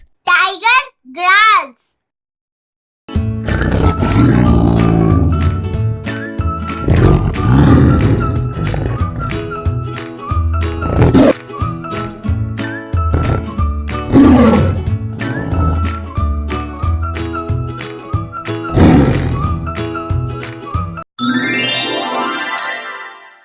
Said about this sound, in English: Tiger growls.